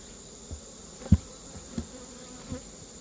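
Honeybees hum around an opened beehive in late August, a faint steady drone broken by a few short, louder thumps.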